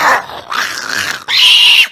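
A dog growls and yaps close and loud in short, harsh bursts, a snarling stretch followed by a sharper bark.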